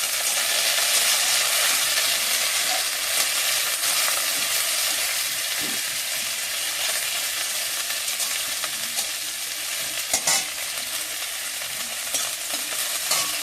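Spices and green chillies fry and stir in a pan, a steady close sizzle running throughout, with occasional clinks of a spatula and no talking.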